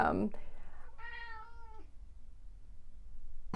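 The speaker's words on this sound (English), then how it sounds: "he probably will keep meowing, so we're gonna be interrupted by a rude cat" A single drawn-out cat meow, clear and fairly close, preceded by a brief burst of voice, then quiet room noise.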